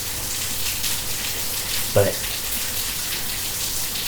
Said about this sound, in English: Man, it's been raining like this all night.